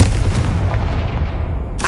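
A Confringo fire spell detonates in the Hogwarts Legacy video game, a loud, sustained booming blast with crackling rumble that fills the whole moment, ending with a sharp fresh burst.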